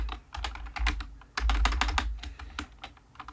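A computer keyboard clatters close up as someone types a command, a quick burst of keystrokes with a short pause in the middle, then a second run of taps.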